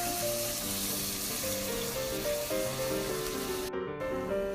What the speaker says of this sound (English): Next, we're going to add 1/2 cup of vegetable stock.